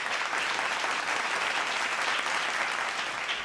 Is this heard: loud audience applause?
yes